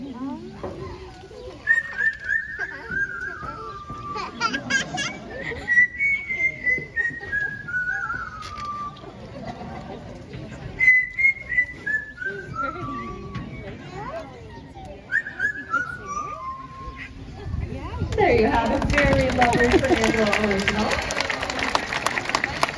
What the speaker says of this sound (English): All warmed up, he's ready to whistle.